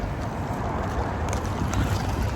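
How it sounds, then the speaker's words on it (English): Steady, rushing wind buffets the microphone outdoors in Milwaukee, a loud continuous roar with no clear pauses. "It's really windy here in Milwaukee."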